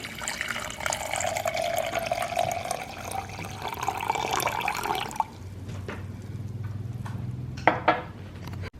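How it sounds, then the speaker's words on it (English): Water is poured into a NUTR milk machine up to its max line while making oat milk at home, a steady close splashing pour for about five seconds, then quieter clinks and handling sounds. "Next, I'm going to go ahead and grab the water and fill it up to the line where it"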